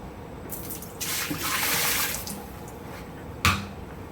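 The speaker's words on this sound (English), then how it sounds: "I'm gonna wash up" Running water at a lab sink during washing up, a tap gushing steadily for a couple of seconds before easing off, then a sharp clink near the end.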